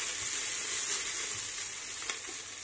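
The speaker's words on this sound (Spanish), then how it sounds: "Yo lo hago aquí porque también sofríe a la plancha." Portobello mushrooms and onion fry on a hot griddle plate, giving a steady, close, bright sizzle with no talking throughout.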